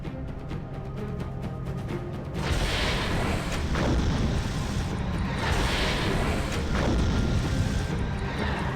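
A torpedo launch in the Silent Hunter 3 submarine game, a sudden loud rushing blast at about 2.5 seconds that stays as a sustained roaring wash, with pulsing surges, replacing the quieter low rumble of the submarine's interior.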